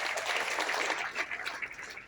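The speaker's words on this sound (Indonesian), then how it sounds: "Kita beri tepuk tangan buat Tuhan." Congregation clapping for God during an evening church sermon by Pastor Johan Lumoindong at Kerinduanku Ministry, a dense, steady wash of many hands that holds throughout and tapers slightly at the end.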